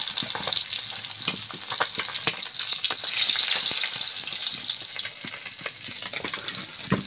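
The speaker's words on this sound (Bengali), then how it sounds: "মাছ ভাজা হয়ে গিয়েছে, এবার তুলে নিচ্ছি।" Tilapia fish frying in a pan, with loud, close sizzling and crackling oil and sharp spatula clatters and scrapes as the pieces are handled.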